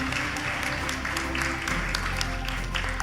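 A crowd at a university graduation ceremony claps in a sustained, even wash of applause, fairly loud and filling the room for the full few seconds.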